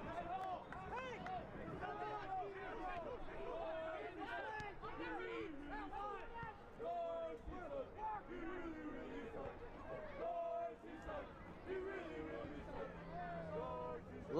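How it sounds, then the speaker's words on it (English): FC Tucson supporters fill Kino North Stadium at a night soccer match against Toronto FC II, producing a continuous crowd roar with chanting and cheering that stays loud throughout, while a commentator talks over it. "Lively crowd at Keno North Stadium tonight."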